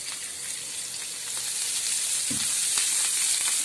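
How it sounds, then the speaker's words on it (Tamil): Chopped onions fry in sesame oil in a pan, giving a steady, fairly loud sizzle that swells slightly, with a faint stirring clack partway through. "நல்லா செவந்து வர வரைக்கும் வெங்காயத்தை வணக்கணும்"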